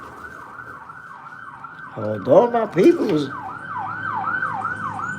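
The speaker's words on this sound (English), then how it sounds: "There's an ambulance up the block." An ambulance siren wails up the block in repeating rising-falling sweeps, loud and steady throughout, while someone talks over it partway through along with some passing street noise.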